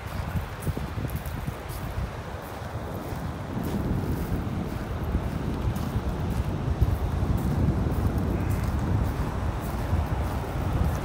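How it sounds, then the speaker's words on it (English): Strong wind buffets the microphone on a cool beach in North Naples, Florida, a constant rushing roar that grows slightly louder partway through, with no voices. "Can you hear that wind?"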